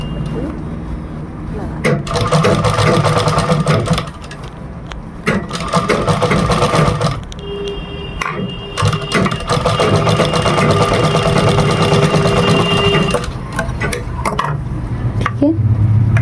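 Sewing machine running a reverse stitch on a V-neck designer blouse: loud, steady whirring runs that stop briefly and restart several times.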